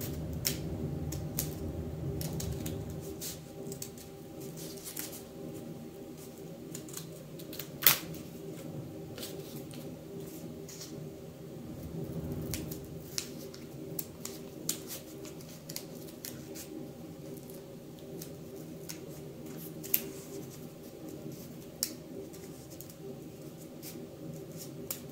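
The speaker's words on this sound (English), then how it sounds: "So you're going to cut everything on the open edge." Scissors snip through folded paper along the open edge while cutting out a chain of people holding hands, giving small soft crisp snips and rustles over a low steady background hum, close and fairly quiet.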